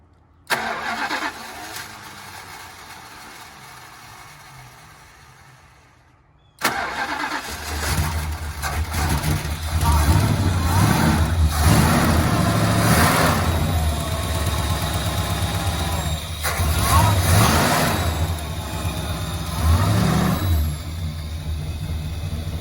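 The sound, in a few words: 1969 Dodge Polara engine starting and running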